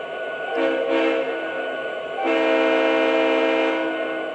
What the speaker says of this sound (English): Another great typical Conrail horn.